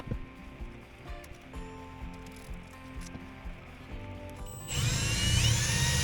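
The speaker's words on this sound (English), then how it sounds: "I started off by drilling my pilot hole" A power drill bites into a camper's cabinet to bore a pilot hole, starting with light knocking and handling noise, then a loud, steady whine of the motor kicking in near the end.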